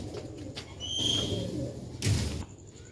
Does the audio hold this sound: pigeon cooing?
yes